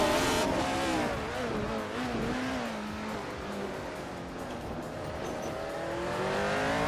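A Lotus 72E race car in a racing video game drives on, its engine droning steadily and loud throughout, the pitch dipping and rising as it shifts and accelerates.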